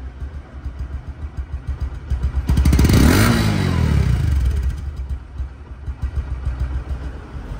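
A running Bajaj Discover 125cc motorcycle engine, a second-hand bike in showroom condition, idles close by with a steady patter, then gives one strong rev that swells and fades back to idle.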